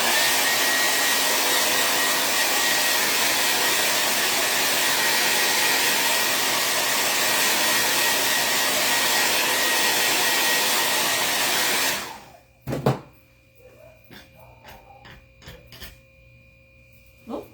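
A hair dryer blows steadily and loudly at close range to dry a painted craft transfer, a continuous broadband rush lasting about twelve seconds before cutting off, followed by faint handling clicks and taps.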